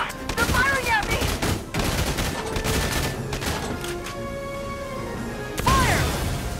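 Enemy gunfire and explosive hits in Valkyria Chronicles 4, with dense overlapping shots and crashes at the start and again near the end, mixed with battle effects and game voices.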